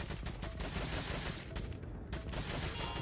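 Dense, continuous gunfire from a FNAF horror video game, a loud rapid fusillade of overlapping shots filling the whole three seconds with a couple of brief dips.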